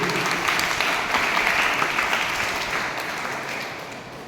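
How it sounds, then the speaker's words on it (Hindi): Loud applause from seated students at a school welcome event, a thick continuous wash of clapping that gradually fades toward the end. "एक बार जोरदार तालियां हो जाए यहाँ पर के लिए।"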